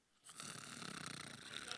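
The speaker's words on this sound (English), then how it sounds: "There comes the snoring back from earlier with your nasty habit." A single drawn-out snore rumbles steadily, faint and close, with a rattling, nasal texture and no speech.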